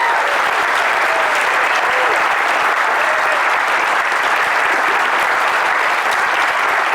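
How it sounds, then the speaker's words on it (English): Audience at a swearing-in ceremony breaks into sustained, loud applause, dense steady clapping throughout with no speech on top. "Let's give that a round of applause."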